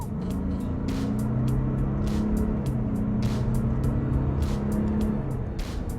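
Maserati Levante diesel SUV engine under steady acceleration, a continuous droning engine tone with a faint breathy whooshing layered over it, heard from inside the cabin at a moderate, even level.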